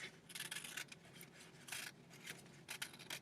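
Scissors snipping paper along a fold toward the middle, a quiet run of short crisp cutting bursts in uneven rhythm, close and soft.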